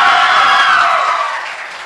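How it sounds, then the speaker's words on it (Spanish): A crowd of students at a school quiz competition erupts in loud cheering and applause after a correct answer, a bright, sustained roar that gradually fades toward the end. "Fuerte el aplauso"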